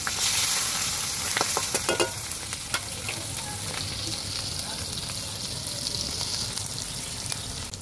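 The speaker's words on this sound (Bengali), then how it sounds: "তো পেঁয়াজটা লাল লাল করে ভাজা হয়ে গেছে।" Chopped onions fry in hot oil in a wok, with a constant close sizzle and scattered scraping clicks of a spoon stirring through the pan.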